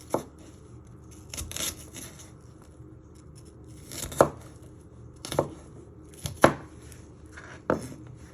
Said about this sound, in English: And then you just want to chop it the other way into little pieces.